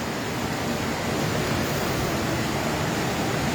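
Strong current of a river swollen and rising after heavy rain, a steady, dense rush of water filling the scene at night, close and continuous with no pauses.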